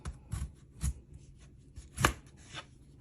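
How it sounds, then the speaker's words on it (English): A knife slicing potatoes on a cutting board, five or six separate crisp chops with short pauses between them, close and fairly quiet. "So what I did was I just sliced it"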